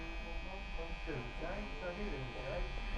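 An electric detailer hair trimmer buzzes steadily close by during a haircut, a thin continuous whine with people talking over it.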